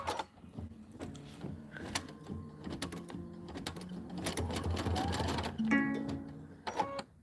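An embroidery sewing machine stitches out a Kimberbell Let it Snow pillow design, its needle clattering in rapid rhythmic bursts with whirring motor tones and brief beeps, loud and close, with no talk.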